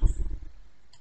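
A single soft computer mouse click in OriginPro graphing software, close and quiet, with a faint second tick near the end.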